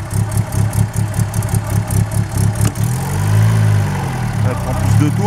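A Fiat Seicento engine idles with a loud, lumpy, pulsing beat, then revs up into a smooth, higher, sustained drone that settles back, heard close up.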